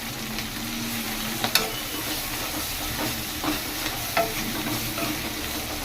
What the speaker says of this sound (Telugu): మొత్తాన్ని ఇప్పుడు కలుపుకోవాలి